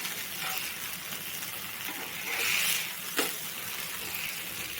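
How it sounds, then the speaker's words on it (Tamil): Brinjal and carrot pieces frying in hot oil, a soft steady sizzle with a brief louder swell and a sharp clink partway through, no talking. "இப்போ பாருங்கள் கத்திரிக்காய் ஒன்று ஒன்றா போட்டு ஃப்ரை பண்ணி எடுத்துக்கலாம்"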